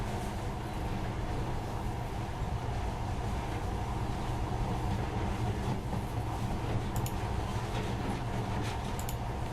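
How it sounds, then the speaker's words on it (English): Monorail train from the video game Metro Last Light running steadily, a continuous loud rumble with rhythmic clatter and occasional high metallic squeals, no voices. "But now, this monorail seems magic, doesn't it?"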